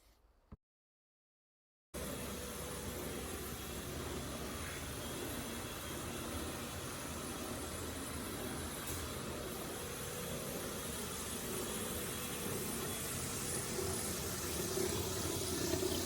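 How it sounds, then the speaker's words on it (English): Hilti DG150 hand grinder edge grinding a concrete floor, a dense continuous roaring drone that starts abruptly after a brief silence and holds steady, loud and close. "We start doing the edge grinding. We're using the Hilti DG150 for the edges."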